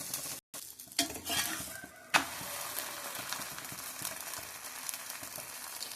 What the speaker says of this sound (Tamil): நான் தவாவில் போட்டேன். இப்போ நம்ம திருப்பி போட்டுக்கலாம்.